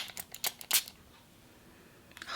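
A small bottle of face and body tan mist is sprayed in several short, soft hissing bursts close by, followed by a brief pause and a faint final spritz, with no talking.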